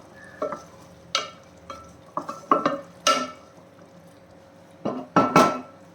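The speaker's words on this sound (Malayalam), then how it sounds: "അപ്പോൾ ഇടയ്ക്കൊന്ന് തുറന്ന് നോക്കാം എന്നിട്ട് ഇളക്കി കൊടുക്കാം" Prawn biryani rice being stirred in a pot, a series of short scraping, clattering strokes of a spoon against the pot at an uneven rhythm over a faint background hum.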